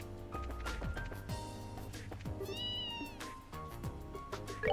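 A cat meows repeatedly in the video game Trails in the Sky SC, several drawn-out mews over busy background music.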